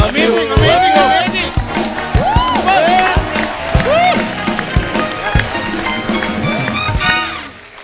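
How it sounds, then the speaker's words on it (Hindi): A studio audience at a Hindi comedy talk show (The Kapil Sharma Show) claps and cheers loudly, with whoops and shouting voices over steady applause that runs for about eight seconds before easing off at the end. "एक बार जोरदार तालियां हो जाए"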